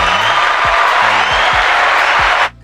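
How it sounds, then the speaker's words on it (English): An audience claps steadily in a dense wash of applause over low background music, then stops abruptly near the end. "Clap it up, clap it up, clap it up."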